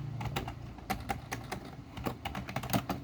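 Programming code being typed on a computer keyboard, with quick irregular key clicks and taps in short bursts, close and fairly quiet, with no talking.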